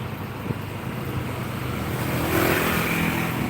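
A motorbike passes along quiet Drupadi Street in Seminyak, Bali, a steady engine drone with traffic hum that swells louder as it draws near toward the end.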